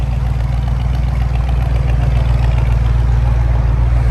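A 1966 Ford Mustang with a 289 V8, four-speed and dual trumpet exhaust idles close up, a loud, steady, throaty drone with no voices over it.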